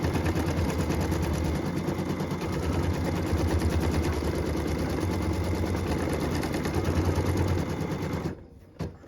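A sewing machine stitches a quilt block in a steady, rapid mechanical chatter with a low motor hum, running continuously before stopping abruptly near the end.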